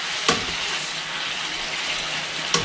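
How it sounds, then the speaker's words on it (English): Mud crab pasta is stirred in a hot pan, sizzling steadily and close up, with a couple of sharp utensil scrapes against the pan. "we'll just finish stirring that up and let that crab just warm right through in the pasta"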